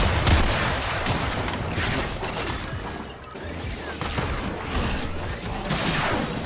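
Bursts of Ferrox weapon fire in Warframe's Conclave player-versus-player mode, dense and continuous with crackling, whooshing blasts and mechanical clatter, fairly loud and with no talk.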